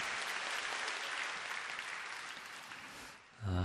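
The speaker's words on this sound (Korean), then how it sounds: "서로에게 사랑과 축복의 박수를 드리겠습니다." A church congregation applauding during a Sunday service, dense steady clapping from many people that gradually fades out, followed by a brief low voice at the very end.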